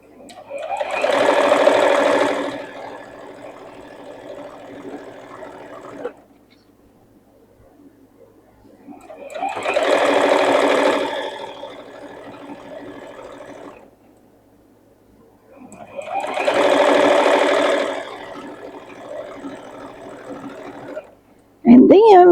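A sewing machine stitches a bolster pillow cover in three bursts of fast, whirring needle chatter, each a few seconds long with quiet pauses between, close and clear, while a person talks over it.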